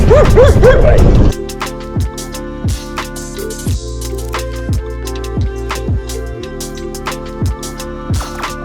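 A dog yips and barks in a short burst at the start, followed by a series of regular light knocks or clicks with a steady hum underneath.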